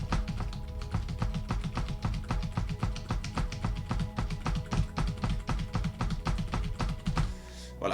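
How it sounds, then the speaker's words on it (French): Computer keys are hammered in a rapid, relentless stream of clicks and taps, dense and continuous for about seven seconds before cutting off abruptly. "je suis en train de spam mon clavier pour bien le faire"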